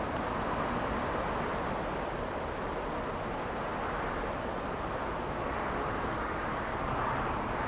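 An airliner taxis under its own power at LAX, a steady broadband engine roar heard from a distance with no break.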